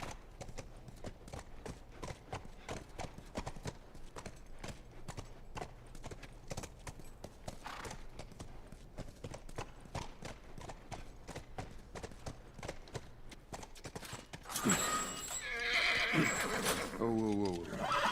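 Horse hooves clip-clop steadily for most of the stretch in The Last of Us, a video game. The horse then gives a loud, close whinny near the end, and voices talk over the hoofbeats.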